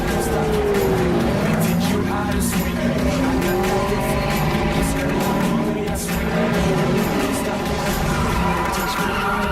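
A car laps Irwindale Speedway at speed, its engine roaring continuously and loudly with tire squeal and shifting pitch as it corners, heard from inside or near the car.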